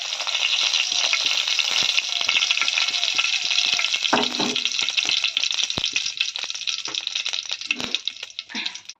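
Cumin seeds frying in hot mustard oil in a kadai give a dense, loud, steady sizzle close up, with a few brief clinks and stirring knocks near the middle and toward the end, and no talking.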